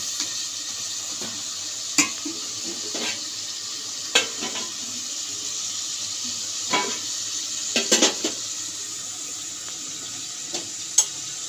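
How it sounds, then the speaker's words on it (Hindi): Mutton being browned with spices in a pot for Hyderabadi shaljam gosht, a faint steady sizzle under scattered clinks and scrapes of a spoon against the pot, several sharper knocks standing out. "अब इसको अच्छी तरीके से भून लेंगे सारे मसालों में डाल के।"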